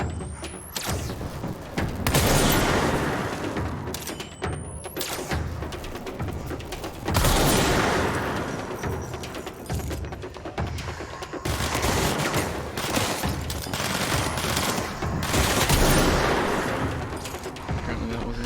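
Gunfire rings out in the action video game Control as the player aims for headshots: rapid volleys and bursts of shots repeat in waves across the stretch, loud and close, with no voices over them.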